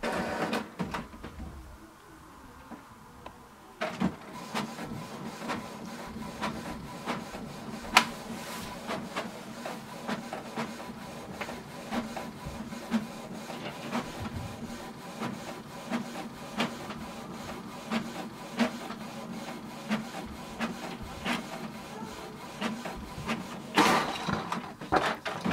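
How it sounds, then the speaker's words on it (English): A Canon TS5320 inkjet printer prints a document. After a quiet start it runs a long mechanical stretch of whirring feed rollers, with clicks and the sliding head moving back and forth, heard up close. "So we can see it has printed."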